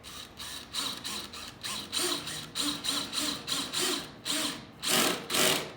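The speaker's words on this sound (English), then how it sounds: "It's okay if you fan the trigger a little bit to put the screw in." A power drill drives a number 8 outdoor wood screw, about a dozen short whirring bursts as the trigger is pulsed repeatedly in an even rhythm, fairly close and clear.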